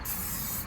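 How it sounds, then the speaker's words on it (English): A single steady hiss from a spray bottle misting dressing onto the interior trim of an Audi Q5. It is close and continuous for under a second, with no voices. "That's when you come in with the spray."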